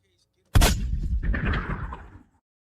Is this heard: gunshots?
yes